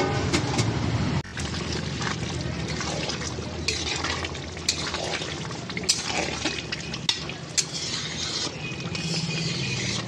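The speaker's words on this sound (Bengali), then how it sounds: "এই জলটাকে দিয়ে দেবো, দিয়ে নেড়ে চেড়ে ঢেকে দেবো।" Hot water is poured into a pan of cooked-down curry and stirred, a continuous close liquid sloshing and sizzling with occasional sharp clinks of the spoon against the pan, and no talking.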